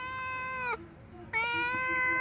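A cat meows twice up close, two drawn-out, tonal calls separated by a short pause, the second slightly longer, over a quiet room background.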